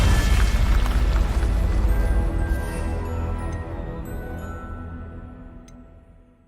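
A Confringo blasting spell from the Hogwarts Legacy video game goes off as a loud, deep boom that rumbles and slowly fades away over several seconds.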